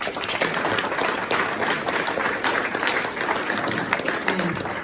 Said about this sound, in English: let's give a round of applause of appreciation to all of our candidates